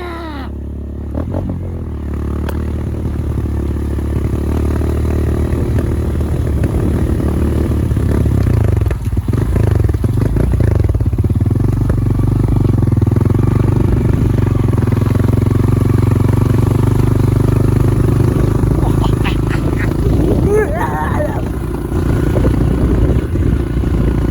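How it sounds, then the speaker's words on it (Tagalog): A motorcycle engine runs loud and close, a steady low rumble with clattering and scraping knocks over it, some sharper bursts partway through, and no clear talk. "Pero yung motor. Patay gano'n siya."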